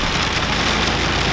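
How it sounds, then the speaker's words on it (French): Hail pounding hard on a truck during a storm, a dense, loud, continuous hiss of rapid impacts with no pauses. "Là c'est de la grêle."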